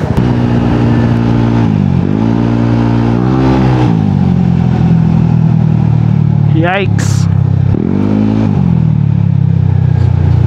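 A Yamaha Aerox V1 scooter with a TSMP stage 3.5 exhaust revs loudly and close, its engine note rising and falling in several swells over a constant drone, while a voice speaks briefly over it.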